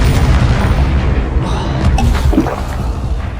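A Confringo spell explosion in the Hogwarts Legacy video game, a loud low boom that rolls over a dense rumbling background with a brief whooshing burst midway.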